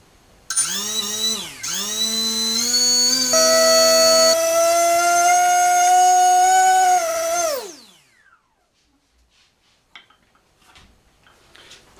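A SunnySky 2207 2100kv brushless motor on 6S with 5-inch props whines loudly as it spins up in stepped pitch jumps with a sync fault, then winds down and stops, leaving faint ticks.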